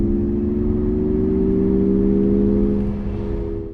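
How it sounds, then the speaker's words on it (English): Synthetic engine note piped in by a Mazda MX-30 compact electric SUV: a loud, steady humming whir with layered tones that rise slightly in pitch, then fade and dip near the end, no voices. "there is this fake engine sound that Mazda have integrated. Here is how it actually sounds."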